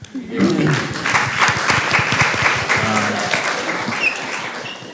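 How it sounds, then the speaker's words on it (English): An audience at an art talk breaks into applause, a fairly loud burst of many hands lasting several seconds, with voices talking through and over it. "Yeah, it deserves a clap."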